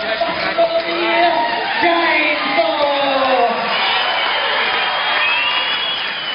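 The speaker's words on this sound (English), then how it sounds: "A big round of applause for the year," A rodeo crowd cheers and whoops after a bull ride, a sustained wash of voices at moderate distance, with an announcer's voice over it.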